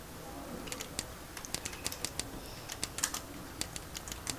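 Fingers tap on a computer keyboard in quick, irregular bursts of crisp clicks, faint and close, with a soft room hush beneath.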